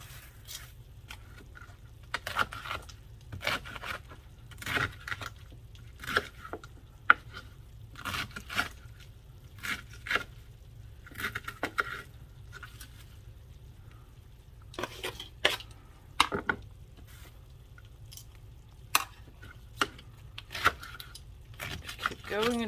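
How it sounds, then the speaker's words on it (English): Cabbage is cut into bite-sized pieces for a goulash, with soft, repeated knife chops on a board that come in irregular bursts over a steady low hum, loud and close. "You're basically just cutting the cabbage down into bite-sized pieces."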